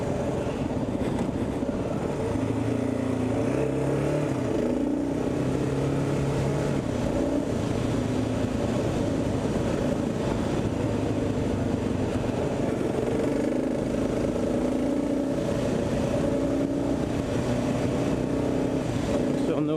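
A Kawasaki KLR motorcycle climbs a mountain road, its engine droning steadily throughout with a shifting low hum and constant wind rush, heard close from the rider's position.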